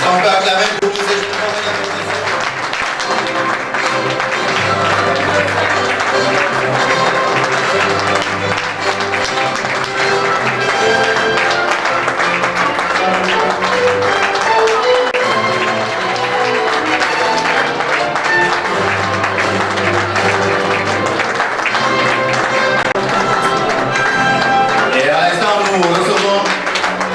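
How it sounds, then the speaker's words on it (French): Wedding guests at a civil ceremony clap in a long, sustained round of applause mixed with loud music, with crowd voices and cheering carrying on beneath it. "Est-ce qu'on peut acclamer pour tous ces gens?"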